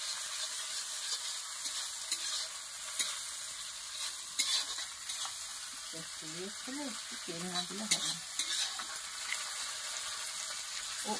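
Hot oil sizzles steadily in a pan for a curry of mixed vegetables, with scattered pops and crackles throughout and brief stirring sounds in the middle stretch; no one speaks.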